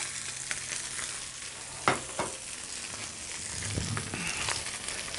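Hapuku fish fillet sizzling in a hot pan, a steady close crackle and hiss with a couple of sharper pops and a brief scrape or stir partway through, no talking.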